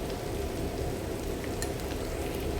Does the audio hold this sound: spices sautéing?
yes